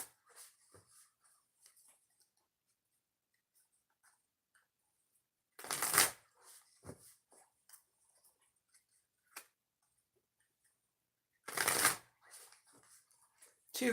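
A deck of oracle cards being shuffled in two loud bursts, several seconds apart, with faint handling ticks and rustles between them in an otherwise quiet room.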